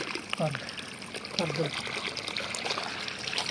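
Water trickles steadily from a tap at a biogas plant being filled, a thin continuous splashing, while people talk nearby over it.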